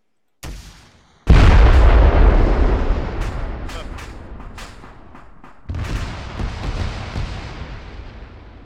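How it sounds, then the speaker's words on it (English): A shoulder-fired rocket launcher on an army training range: a short pop, then a huge roaring blast that slowly rumbles away, followed a few seconds later by a second deep rumble from the impact. "Rocket, rocket, rocket."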